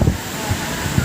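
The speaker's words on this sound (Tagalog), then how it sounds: "Napakalakas lang ng hangin talaga." Strong wind gusts buffet the microphone at a black-sand beach, with low rumbling bursts over a steady hiss of surf, loud and close for about a second.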